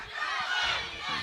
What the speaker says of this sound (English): that is a traditional chant for the British